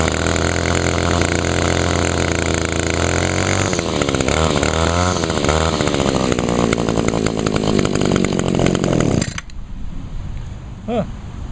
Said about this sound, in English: This one usually starts easier when I would give it throttle.